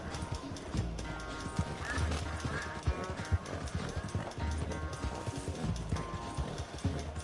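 Horse hooves clip-clop at a gallop in the video game Red Dead Redemption, a steady rhythmic thudding with an occasional whinny, under someone talking in French.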